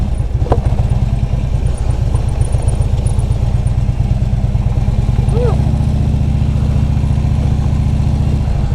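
A Harley-Davidson motorcycle with a sidecar rolling slowly and then idling, a loud, close, throbbing V-twin pulse, with people talking over it.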